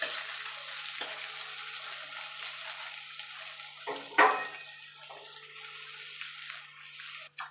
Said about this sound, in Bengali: দিয়ে পেঁয়াজটা আমি ভালো করে লাল লাল করে ভেজে নেব